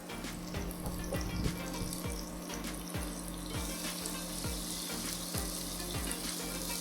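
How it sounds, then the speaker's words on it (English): Vegetable peels fry on high heat in about a third of a cup of oil, salted, in an IKEA Vardagen carbon steel pan, giving a steady close sizzle broken by regular scraping strokes as they are pushed around the pan. "Move the peels around the pan as it cooks."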